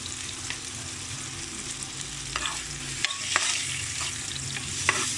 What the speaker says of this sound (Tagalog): gisa po nato itong kamatis guys